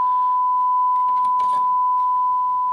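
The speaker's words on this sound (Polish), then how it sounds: "CD, sygnał testowy." A steady test-signal tone played from CD through a Sony STR-GX80ES receiver holds constant and clear for the whole stretch, with faint background noise and no talk.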